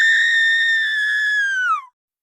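A single long high-pitched scream from a boy in a spooky kids' story, loud and sustained for nearly two seconds before dropping in pitch and cutting off into silence.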